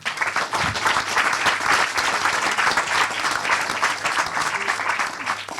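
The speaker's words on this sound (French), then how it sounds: "l'incontournable et l'éblouissant Jacques de la Rosière, que je vous demande d'applaudir" Conference attendees applaud the guest Jacques de la Rosière at a talk on debt, the euro and European politics, with steady, moderately loud clapping from a sizeable crowd throughout.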